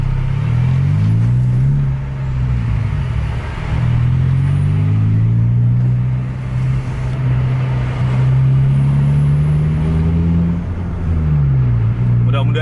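A truck accelerating on the road makes a loud, continuous engine roar that rises and dips as it pulls, heard up close throughout.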